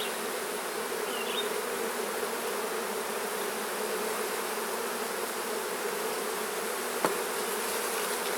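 Dense, steady hum of many honey bees swarming in an opened hive, close and continuous throughout with no talk, one faint tick near the end.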